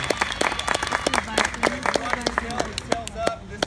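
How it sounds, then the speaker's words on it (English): Spectators clap in scattered, uneven bursts after an outdoor police K9 demonstration, with people talking over and between the claps. "Can we get a big round of applause for our demonstrators?"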